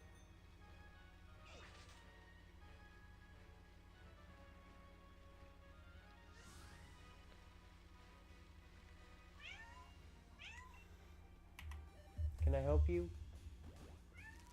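A house cat meowing several times at moderate distance, with a louder cluster of meows and a clatter near the end, while a person talks over it.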